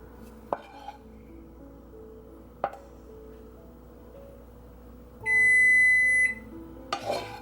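A preheated kitchen oven gives a sustained, steady electronic beep of about a second, standing out clearly against quiet background with scattered clinks and knocks of cookware before and after.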